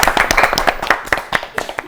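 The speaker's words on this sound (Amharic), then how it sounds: "በደንብ አድርጋችሁ አጨብጭቡላችሁ።" Children clap together in a lively burst of sharp, close hand claps during an Ethiopian children's television show, the rapid, uneven claps filling the whole short stretch.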